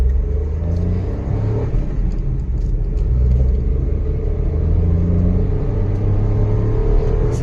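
A Maruti Alto K10 car accelerates hard for a top speed run with the AC on, its engine droning loudly and steadily from inside the cabin, rising through the gears with constant road rumble.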